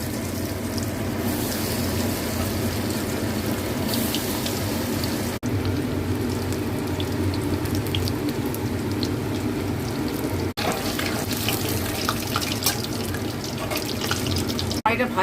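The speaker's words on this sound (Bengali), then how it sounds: "এবারে আমি একে একে সব ভেজে নিচ্ছি।" Food frying in very hot white oil in a kadai, a constant dense hiss and crackle like running water, loud and unbroken throughout.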